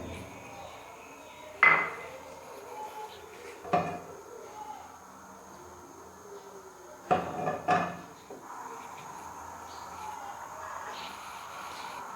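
A pan is set down and moved about on a stove, making four separate metallic clanks and knocks spread over a quiet, low background hum.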